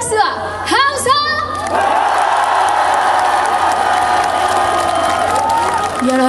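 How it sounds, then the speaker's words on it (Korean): Audience at a temple mountain concert breaks into loud applause and cheering, a dense sustained wave of clapping with whoops and shouts after brief opening calls, filling the space throughout. "준비하시고 다같이 박수와 함성!"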